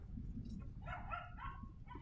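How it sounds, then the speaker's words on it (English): Dogs barking behind a baseball field during a PBR New York Futures game, a few short yaps and barks at moderate distance over steady crowd and ballpark noise. "Dogs are in the house back there."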